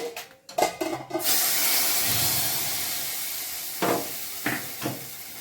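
Tadka tempering for kadhi pakodi hits the pot with a loud burst of sizzling hiss that slowly fades, preceded by clinks of utensils and followed by a few short stirring scrapes.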